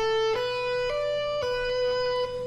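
A guitar plays a pentatonic arpeggio lick in A, picked notes with a hammer-on and pull-off, several clear plucked tones ringing in sequence, close and alone with no talking.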